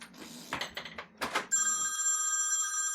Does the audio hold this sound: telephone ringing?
yes